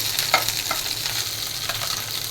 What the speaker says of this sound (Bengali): মিষ্টি কুমড়া ভাজার জন্য পেঁয়াজ আর কাঁচামরিচ দিয়ে দিয়েছি